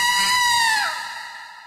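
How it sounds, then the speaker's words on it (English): A single high-pitched death scream from an RPG horror video game rings out loud, then slides downward in pitch and fades away. "every time you die, you have to hear this scream"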